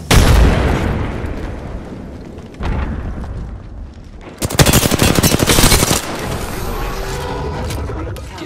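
In an Apex Legends match, a loud frag grenade blast opens the sequence, then a dense burst of rapid machine-gun fire follows a few seconds later, with a player talking over the action.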